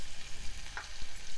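Sliced onions fry in melted butter in a pot, giving a soft, steady sizzle with a faint scrape or stir midway, no voices.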